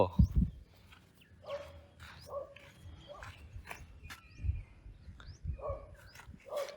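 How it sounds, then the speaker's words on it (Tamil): Several short dog barks sound at intervals, some sharp and some softer, with faint footsteps and background noise between them. "வேற ஒரு நாய் குலைக்குதுரா"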